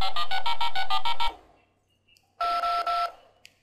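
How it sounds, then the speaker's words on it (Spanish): Telephone sound effects: a rapid electronic ringing trill lasts about a second, then after a short silence a steadier beeping ring sounds, both clear and close with no voices. "También hay de teléfonos."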